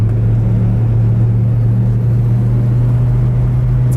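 Nissan 240SX with a stock exhaust, its engine giving a steady, loud low drone from inside the car while driving on back roads, with no talk.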